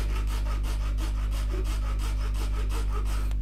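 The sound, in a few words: hand saw cutting plastic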